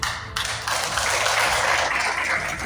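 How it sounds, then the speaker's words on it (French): Applause at a political party event, a dense, continuous wash of clapping from a crowd that swells after a brief pause and holds steady, fairly loud with no talking. "Applaudissements."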